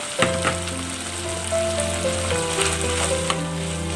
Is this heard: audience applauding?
no